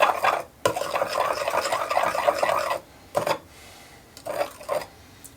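A knife stirs hot soft plastic bait mix for 1.6-inch ice jerk baits, a close, continuous scraping swirl that stops briefly between bursts, with no talk.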